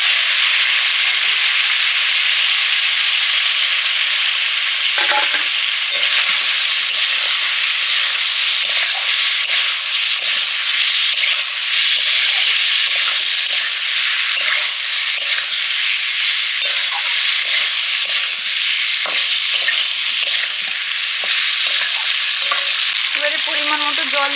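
Fried potatoes, eggs and capsicum being stirred in a hot pan, a loud continuous sizzle with scraping stir sounds close up throughout, no talk.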